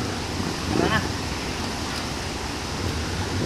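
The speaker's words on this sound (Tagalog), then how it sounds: "Tagal ko na naririnig tong ilog." A river used for washing clothes and bathing flows with a steady, broadband rushing hiss, continuous and fairly close, with a faint voice briefly heard over the water.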